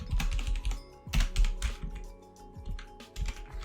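Keys clatter on a computer keyboard in quick irregular bursts with short pauses, close and clear, as code is entered in Unity for a mobile endless runner game.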